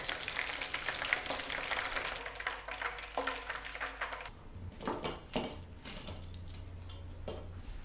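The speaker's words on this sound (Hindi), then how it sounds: "तीन से 4 मिनट लगे हैं मछली को अच्छे तरीके से फ्राई होने में" Fish fries in hot oil for a smoky barbecue-style fried fish recipe, giving a steady, fairly faint sizzle and crackle, with a few clinks of a utensil or strainer partway through.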